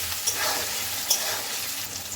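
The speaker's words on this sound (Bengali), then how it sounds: "আলুগুলো ভাজা ভাজা হয়ে গেলে" Potatoes fry in oil with a few pinches of turmeric and salt, giving a steady, close crackling sizzle with light stirring ticks and no voices throughout.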